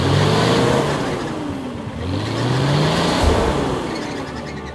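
A car labours along a rough road in Colombia, its engine loud and close, revving up and down in uneven surges with a continuous rumbling roar and no voices.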